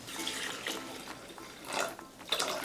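Water pours into a Thermomix TM6 mixing jar with a continuous splashing gurgle whose level rises and falls, swelling in brief louder surges, close by in a kitchen.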